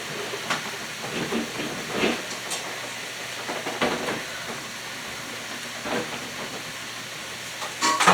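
A pressure cooker lets out a steady, close hiss of escaping steam, with faint clicks and knocks rising over it every second or two.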